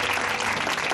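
Loud, dense applause from a congregation during a church sermon in Pakistan, a steady wall of clapping filling the whole moment without a break.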